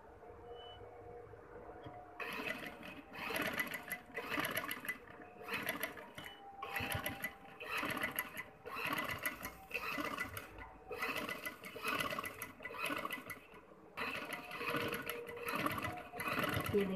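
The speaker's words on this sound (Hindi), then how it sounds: "अब हम इसके ऊपर किनारे की सिलाई लगाएंगे।" A sewing machine stitches the edges of ring lace in repeated bursts of rapid mechanical whirring, each run starting and stopping in a steady rhythm, close and clear with no talking.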